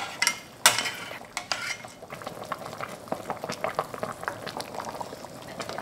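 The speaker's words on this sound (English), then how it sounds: "I like to turn up the heat to high heat, and 10 more minutes I just boil so that it's going to be more really shiny." Pig's trotters boil hard in a braising liquid over high heat, giving a steady bubbling with wet pops and a few louder clinks and splashes near the start, close and alone with no talk.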